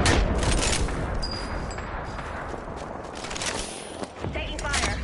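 Gunfire in a first-person military shooter video game, dense bursts and scattered shots crackling loud and close throughout, with a voice speaking over the firefight.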